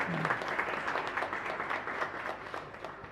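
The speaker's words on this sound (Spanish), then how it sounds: "pido un fuerte aplauso en agradecimiento" A church congregation at Mass breaks into steady, full applause in gratitude, many hands clapping together in a dense, sustained wash that carries on evenly from start to finish.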